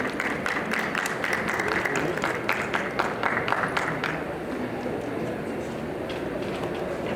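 Audience at a medical conference on orthopedics claps for an incoming speaker, a dense, steady applause of many hands that continues throughout and softens slightly toward the end.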